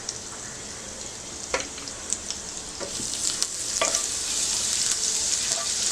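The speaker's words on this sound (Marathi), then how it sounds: "आलं लसूण व्यवस्थित परतून घेऊया।" Grated ginger and garlic with cumin sizzle steadily in a spoonful of hot oil for a spicy potato dish, while a spoon stirs and scrapes the pan with a few sharp taps. The frying grows slightly louder toward the end, with no talking.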